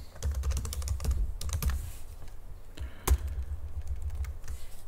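A name typed on a computer keyboard, heard as quick bursts of close, crisp key clicks with brief pauses and one louder tap near the end, with no talk.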